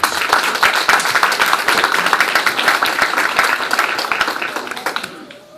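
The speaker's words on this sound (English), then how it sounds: "Let's give them an applause." An audience at a motivational talk honoring young men and women gives sustained applause, many hands clapping loudly and continuously for about five seconds before tapering off, with some voices mixed in.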